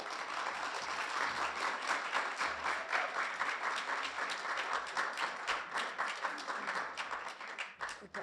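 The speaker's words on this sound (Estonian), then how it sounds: "Ma ei pressinud nüüd aplausi välja" An audience applauding steadily at a literary talk, a dense sustained patter of many hands clapping throughout, fairly distant and even in level.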